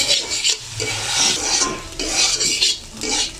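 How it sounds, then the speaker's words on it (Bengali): Spiced potatoes being stirred in a pan, rhythmic scraping and clinking of a utensil against metal in repeated bursts over a soft frying sizzle, close and fairly loud. "আলুগুলো আমি এইভাবে নেড়ে নেড়ে ভালো মিশিয়ে"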